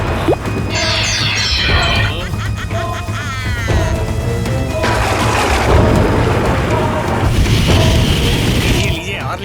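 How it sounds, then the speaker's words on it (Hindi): Cartoon rain with rumbling thunder booms in a Chhota Bheem village scene, steady downpour hiss throughout with music and voices talking over it. "अरे बारिश!"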